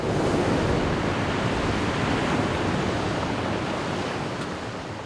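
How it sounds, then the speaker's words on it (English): Ocean waves crash against the shore of the Alaska coast in a dense, continuous roar of surf that stays loud throughout and eases slightly near the end, with no voices. "Even with waves crashing against the shore."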